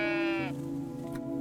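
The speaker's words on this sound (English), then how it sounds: "But let's pet a sheep first." Sheep bleating when petted in the video game Tiny Glade: a single close, loud, harmonic bleat that wavers and then drops off, followed by quieter ambient game sound.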